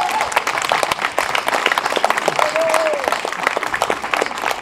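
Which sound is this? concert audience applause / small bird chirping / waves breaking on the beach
concert audience applause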